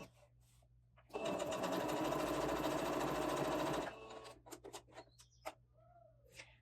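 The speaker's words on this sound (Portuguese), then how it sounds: "nós vamos passar uma costurinha reta" A sewing machine runs a continuous straight topstitch along a seam-allowance edge of a knife pocket, a steady loud whir of about three seconds that then stops, with faint bird coos and small handling noises around it.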